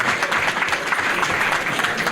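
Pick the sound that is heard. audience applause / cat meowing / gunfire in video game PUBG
audience applause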